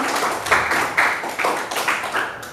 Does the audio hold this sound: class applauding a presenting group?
yes